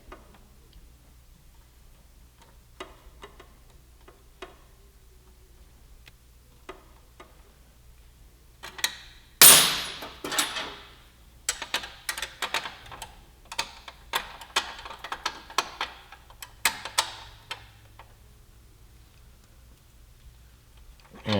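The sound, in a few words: wrench tightening exhaust mount bolt on Yamaha R1M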